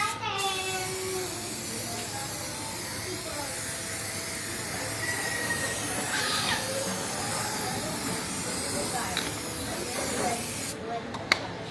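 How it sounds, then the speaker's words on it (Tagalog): An aerosol can of Sparkle 1 engine bay cleaner from Aeropack sprays steadily onto a vehicle's stepboard, a continuous close hiss running almost the full length with short pauses and faint background noise. "Spray lang mga bossing."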